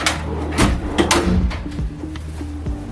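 Close-up sliding and knocking sounds as heavy-duty drawers in a fiberglass service truck cap are pulled open and pushed shut, with a few sharp clunks and a short rolling rattle.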